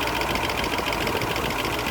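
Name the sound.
tappet clatter from 1972 Range Rover engine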